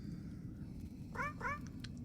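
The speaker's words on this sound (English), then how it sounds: "there's our kitty friend" Within the horror game Nightmare of Decay, a cat gives two quick close meows in a row over a low background hum, followed by faint ticking sounds.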